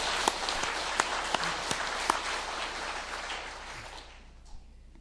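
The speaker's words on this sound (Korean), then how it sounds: "우리 감사와 격려의 박수를 한번 우리 성가대에 위해서 드리도록 하겠습니다" A church congregation claps for its choir after a Christmas-season hymn, a full round of applause with a few sharp nearby claps standing out, then tapering off and fading toward the end.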